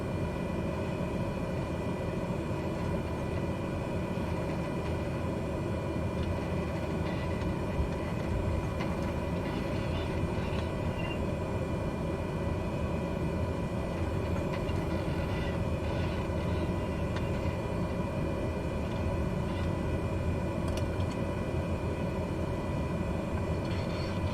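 Cessna engine droning steadily through a takeoff roll in Microsoft Flight Simulator 2020 over Northern Ontario, a continuous, fairly even rumble that holds for the whole stretch with no talk over it.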